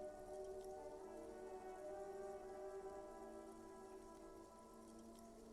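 Steady rain falls in the video game Disco Elysium, a constant, even hiss of rain on surfaces with a low tonal drone underneath, faint and unbroken.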